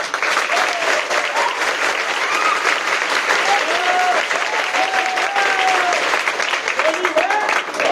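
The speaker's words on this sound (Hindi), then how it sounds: "जोर से ताली बजाओ अपने।" A crowd claps loudly and steadily for several seconds, a dense, continuous wash of applause with a few voices and tonal calls rising above it.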